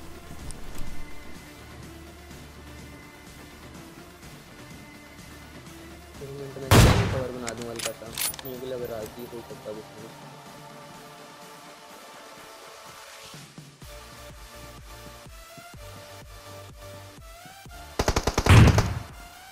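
PUBG Mobile fight with AWM sniper rifle fire, loud sharp game gunshots standing out at two separate moments above a low background of in-game sounds, with scattered weaker shots between them.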